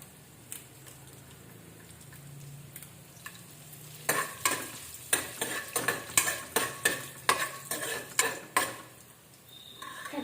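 Curry leaves, dried red chilies and chana and urad dal fry in hot oil with a quiet sizzle, then a spoon scrapes and clinks against the pan in a quick, regular stirring rhythm.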